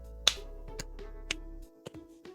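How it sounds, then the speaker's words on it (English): A handful of sharp, slow claps in a video game, spaced out unevenly, close and distinct over a faint low hum that drops away partway through. "I started slowly clapping."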